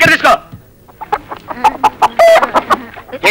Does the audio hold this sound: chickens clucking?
yes